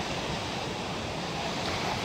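Sea waves wash steadily onto the coast at near-maximum high tide on a Sunday morning, a constant broad rushing surf with some wind noise, close and unbroken, no voices.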